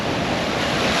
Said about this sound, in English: it's so windy, my hat's blowing off